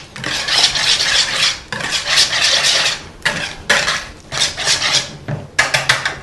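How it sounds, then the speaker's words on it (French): Fromage blanc being folded into courgette pulp in a bowl for a gratin, heard as close, repeated scraping and stirring of a utensil against the bowl in bursts of a second or two with brief pauses between, no talking. "je vais le mélanger avec le gratin de avec les courgettes, la pulpe de courgettes"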